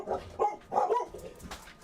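A dog gives a few short, gruff barks in an uneven burst, fairly close but not loud, with brief gaps between them.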